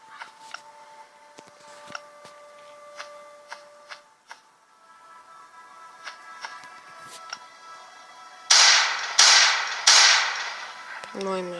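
Sharp, scattered gunshots in the zombie video game The Last Day pop at irregular intervals, then three loud blasts in quick succession near the end.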